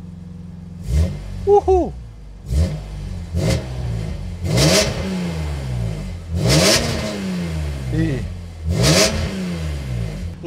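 A BMW M3 E46 CSL engine revs hard through repeated gear pulls, each rising howl cut by a brief shift gap, loud and close from the cabin, with a short excited shout from a passenger.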